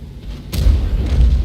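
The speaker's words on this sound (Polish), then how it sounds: "Strzał z biodra w T-54, pierwszy nie wszedł, drugi się odbił" A heavy tank's main gun fires in a video game, a single loud close boom at the T-54 that rolls on into a low rumble, with no talk.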